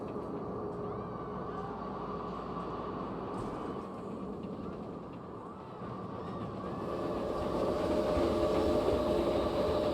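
A train rolls past steadily in a Planet Coaster 2 theme park, a sustained rumbling wash with rail clatter that swells louder toward the end, heard alone without talk.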